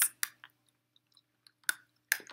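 A candy cane is crunched between the teeth, a few sharp brittle cracks separated by short pauses, close and clear with no voices.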